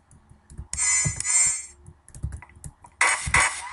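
Rapid clicking from someone repeatedly pressing the fire button while playing Half-Life: Opposing Force, heard as sharp bursts of taps and weapon noise, close and fairly loud, with no talking.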